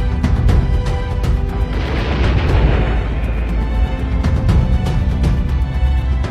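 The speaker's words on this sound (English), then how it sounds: "You also get to work with multi-barrel rocket launchers" Multi-barrel rocket launchers firing, a dense, continuous roar of booming blasts and rumbling bursts layered over one another, loud and sustained throughout.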